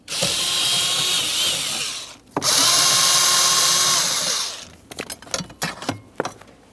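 A power tool drives out a pair of 8mm-headed bolts holding a cross member on a 2006-2011 Honda Civic. Two loud, sustained whirring runs play back to back, followed by a few scattered metallic clicks and knocks.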